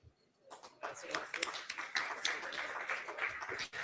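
After a brief silence, an audience at an economics forum in Guatemala breaks into applause, a crowd of clapping hands mixed with talking voices.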